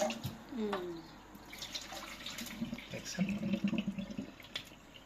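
Water runs and splashes over a plaice fish being washed clean, an irregular close gush with drips and sloshing handling noises, and a voice briefly heard.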